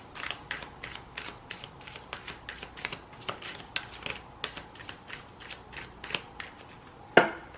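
Rapid papery riffling and soft snaps of cards being shuffled, in quick uneven bursts, close and fairly quiet, with a sharper tap near the end.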